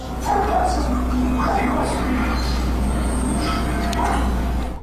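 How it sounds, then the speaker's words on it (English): Several dogs bark and yip restlessly in scattered bursts over a steady low rumble, moderately near and continuing throughout. "And his dogs are going crazy too, the kind of restless barking when danger is approaching."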